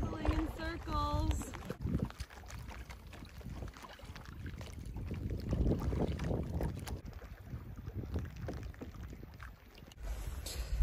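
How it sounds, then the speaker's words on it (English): Paddle strokes on water from a small boat circling on a calm stretch, with steady wind buffeting the microphone and a voice speaking briefly at the start. "I'm paddling in circles."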